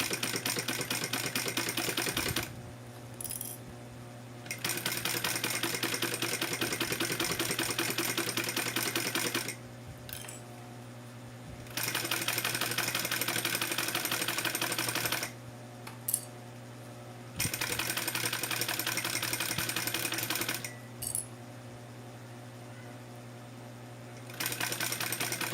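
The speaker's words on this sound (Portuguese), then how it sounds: "E vamos passar uma costura em toda a volta." A sewing machine runs in several steady bursts of rapid stitching around a synthetic bag, pausing briefly between runs with small clicks, close and clear with no talking.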